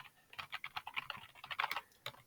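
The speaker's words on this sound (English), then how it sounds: "Let's type up on Flickr then." Quick, close clicking from a computer keyboard as a search is typed, forming a rapid, uneven stream of key presses with no talking.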